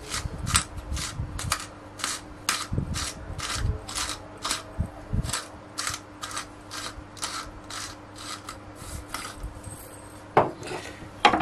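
A utensil stirs food seasoned with thyme, salt and pepper in a pan, giving a steady rhythm of brisk scraping strokes about twice a second, close and clear.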